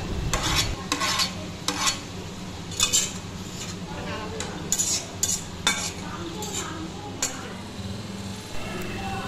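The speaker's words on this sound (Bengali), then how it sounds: "এরপর একে একে মাছগুলো ঢেলে দিই।" Boroli fish are tipped into a simmering curry with potatoes and stalks, then stirred with a metal utensil that scrapes and clinks against the pot in irregular strokes over a steady bubbling sizzle.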